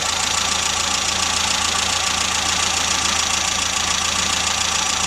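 A Rover Mini with automatic gearbox idles after a long warm-up, its engine running loud, close and steady with an even low pulse and constant mechanical whir, with no talking.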